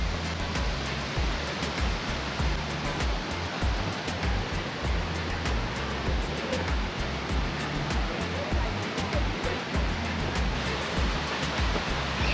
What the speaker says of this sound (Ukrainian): оцей от шум води.